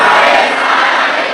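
A large crowd at a Shiv Mahapuran religious discourse loudly chants the Bol Bam slogan in unison, a brief, dense roar of many voices.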